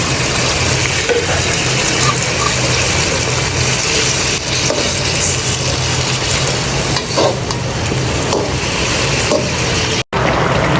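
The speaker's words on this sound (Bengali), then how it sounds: "আমি মশলাটা কষিয়ে দিয়েছি আগে থেকে ভেজে রাখা মাছগুলো দিয়ে দিলাম" Fried fish dropped into spice masala in a hot pan sizzle loudly and continuously, with stirring scrapes running through the steady frying hiss, close up and without talk.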